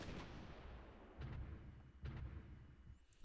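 Artillery shelling in the strategy game Supreme Ruler Ultimate, including Panzerhaubitze 2000 fire: low rumbling booms, a few distinct thumps over a constant heavy roar, no talk.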